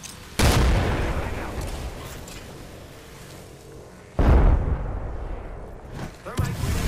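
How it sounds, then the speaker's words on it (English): Two heavy booming blasts from grenade explosions in Apex Legends, each hitting hard and then rumbling away, followed by a smaller burst near the end. "Thermite grenade down."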